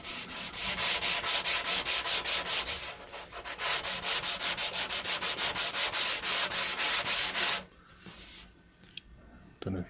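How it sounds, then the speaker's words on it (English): Hand sanding along the smooth edges of an MDF board for a hollow-core shelf unit: steady rhythmic rasping strokes, close and loud, with a brief pause near the third second, ending in quieter scattered handling noises. "I find that if I just sand it very smooth"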